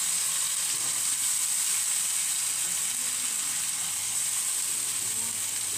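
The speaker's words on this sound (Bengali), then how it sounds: "দিয়ে এটা হালকা করে ভাজবো।" Onion, garlic and ginger paste sizzles lightly in oil for Bengali doi rui fish, a steady, even hiss of frying that carries on unbroken throughout with no voices.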